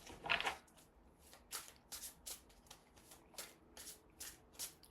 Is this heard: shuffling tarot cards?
yes